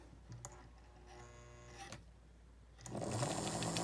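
A 1955 Lionel Berkshire #736 model locomotive motor runs on test: a steady mechanical whir with a few short bursts, then louder and rougher for the last second.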